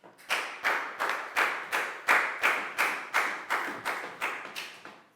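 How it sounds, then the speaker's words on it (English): A classroom group of students claps in a steady, even rhythm, roughly two sharp claps per second, each crisp and close, running for several seconds with no talking. "a big round of applause for Pat"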